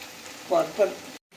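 Masala with dry spices frying in a pan for prawn malai curry, a soft continuous sizzle with a couple of brief louder stirring swells, cut off near the end.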